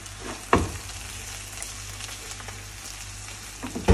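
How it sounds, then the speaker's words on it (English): Lentils and jaggery stirred in a hot pan for the South Indian sweet hayagreeva, giving a soft, steady sizzle with a sharp scrape or clank of the spoon near the start and another at the end. "This you mix well, so that keep mixing so that it doesn't get stuck at the bottom."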